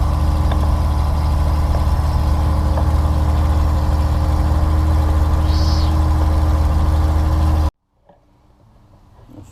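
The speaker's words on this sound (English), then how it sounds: "Fantastic old Ford straight six." A 1964 Ford F350 straight-six engine idles steadily and loudly, with a deep, even rumble up close, then cuts off abruptly near the end, leaving near silence.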